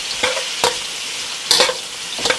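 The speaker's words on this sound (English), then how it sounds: "Then we're going to keep stirring. Stir a little bit." Beef and green onions frying in a pan for Mongolian beef, a steady hiss of sizzling oil broken by several sharp scraping strokes of a spatula stirring, close up, no voices.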